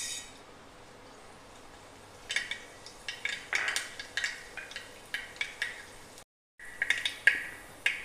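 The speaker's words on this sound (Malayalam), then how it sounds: "വെളിച്ചെണ്ണ ചൂടായി കഴിയുമ്പോൾ അതിനകത്തേക്ക് കടുകിട്ട് കൊടുക്കുക." Mustard seeds drop into hot coconut oil in a pan, followed by a run of sharp, irregular pops and crackles, close and fairly quiet, with a brief silent gap before the popping resumes.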